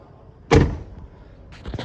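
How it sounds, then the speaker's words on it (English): A door on a two-door Ford Bronco is shut with one solid thump close by, followed by a brief softer rattle or knock from the vehicle moments later. "So let's go ahead and shut the door."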